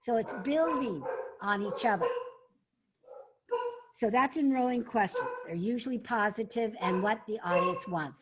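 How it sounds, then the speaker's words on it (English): A dog barks in the background of a room while someone speaks continuously up close, the barking partly buried under the talk. "Sorry about the barking."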